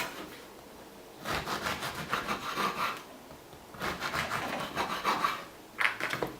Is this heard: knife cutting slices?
yes